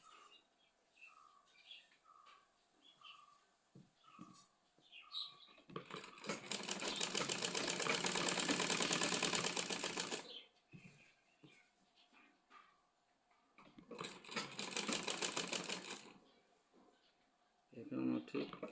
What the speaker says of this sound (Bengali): এভাবে ঘুরিয়ে নিয়ে এখান থেকে আবার সেলাই শুরু করব।